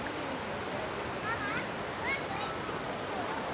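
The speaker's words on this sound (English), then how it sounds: "There's like a smaller waterfall because of the stream" A small waterfall fed by a stream in the Daintree rainforest, a steady broadband rush of falling water with faint bird calls above it; no one talks over it.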